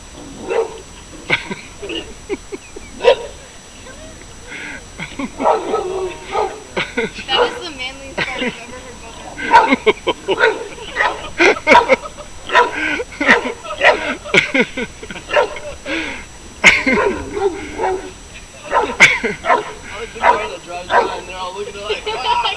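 Dogs bark and yip repeatedly in bursts, some near and some farther off, with people talking and shouting over them.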